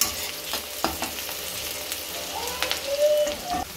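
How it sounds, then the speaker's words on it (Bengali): Onions frying in hot oil for chicken rezala, a steady close sizzle with brief stirring scrapes and a few spatters throughout. "এবার আমি পেঁয়াজগুলো ব্রেস্তা করে নেবো"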